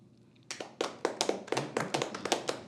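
A handful of men in a comedy club audience clap for about two seconds in scattered, uneven bursts that start after a quiet moment. The claps sound fairly close and sparse, with no talking over them.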